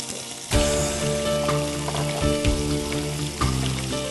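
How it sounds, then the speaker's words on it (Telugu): Onions and garam masala hit hot oil with a sudden loud, crackling sizzle at about half a second in, then keep frying in a dense, bubbling hiss, with a few sharper spatters along the way. "నూనె వేడైపోయింది మనం గరం మసాలా వేసేసుకుందాం ఉల్లిపాయలు వేస్తున్నాము"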